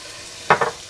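Fish biryani masala, with garam masala just added, is stirred in a pan: two quick, close scraping sizzles over an otherwise quiet background.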